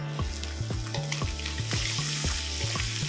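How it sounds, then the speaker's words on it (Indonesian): Small anchovies (ikan teri), washed beforehand, fry in a home kitchen pan with a steady, close sizzle and crackle. Repeated low thumps sound as they are stirred and turned. "Jadi ikan terinya aku goreng dulu seperti ini"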